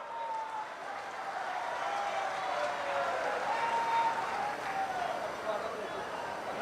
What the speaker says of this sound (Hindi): तालियों से, जोरदार तालियां।